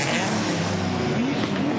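Race car engine at the 1984 Bathurst race finish, a steady loud drone with a rising and falling engine whine throughout, dense crowd or track noise beneath.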